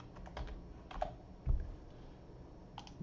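Several quick keystrokes tap on a computer keyboard as a number is entered, a short cluster of soft clicks followed by a couple of isolated presses, faint and close in an otherwise quiet room.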